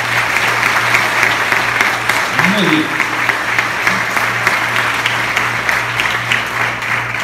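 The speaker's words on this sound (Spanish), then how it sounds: "quiero que le demos un fuerte aplauso" A large audience claps steadily in a dense, continuous roar of applause at a health talk, with a brief spoken voice heard over it.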